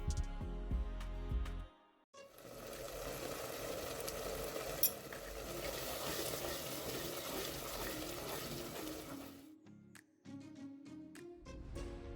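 Lamb mince drops into a pan of oil with spices, tomato paste and chopped green chilli and sets off a broad, steady sizzle for several seconds, with gentle music before and after.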